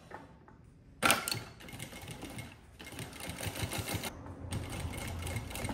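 A sewing machine runs close up, stitching down a lining seam in rapid steady bursts with short pauses between runs, and no talking over it.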